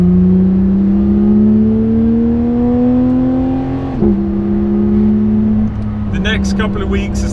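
A Porsche GT3 RS engine in PDK Sport mode climbs the Susten Pass in Switzerland, heard loud and close as it revs steadily upward with two quick upshifts and a rising whine.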